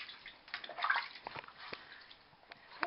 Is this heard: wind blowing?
no